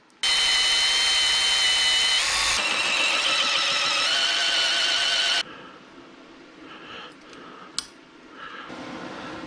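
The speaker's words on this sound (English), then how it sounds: "now let's drill." A power drill boring into metal whines loudly at high pitch for several seconds, then cuts off, followed by quieter clicks and handling noises.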